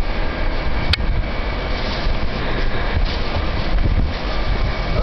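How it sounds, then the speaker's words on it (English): A train passes through a station with a loud continuous rumble and rattle of railcars, a brief sharp click near the start, and no talk. "Train."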